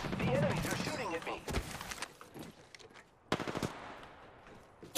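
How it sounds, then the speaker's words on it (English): Enemy gunfire in the game Apex Legends, rapid bursts of automatic weapon fire mixed with gameplay sounds, loud at first then in scattered shorter bursts, with voices talking over parts of it. "The enemies are shooting at me."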